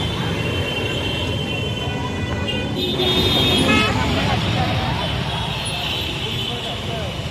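Dense road traffic rumbles steadily nearby on a rainy day near Banchankri metro station, engines droning with occasional horn-like tones rising midway, with a voice speaking over it.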